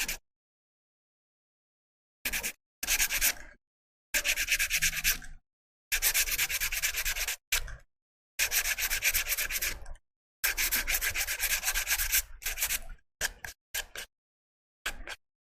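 Sandpaper rubs back and forth across a wooden hand mirror in a series of scratchy strokes, some short and some long, separated by brief pauses.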